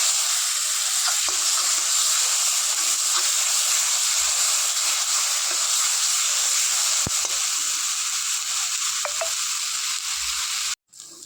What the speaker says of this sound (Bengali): এবারে এটা ভেজে নেবো একসাথে।